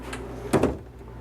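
A drawer in the bathroom vanity of a 2002 Country Coach Magna motorhome is opened, a brief soft slide and knock close by in a quiet interior, with no talk.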